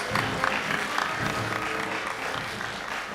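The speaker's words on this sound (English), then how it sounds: "Can we give them a big round of applause for the parents" Applause for the parents at a school graduation ceremony, a hall full of people clapping in an even, continuous wash at moderate volume, slightly distant, with a few louder claps early on.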